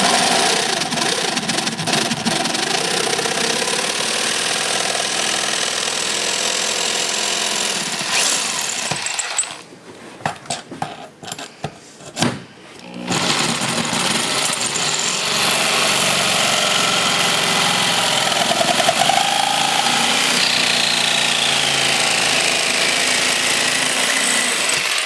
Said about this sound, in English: get a hole big enough to get my blade started, and then I can cut this area out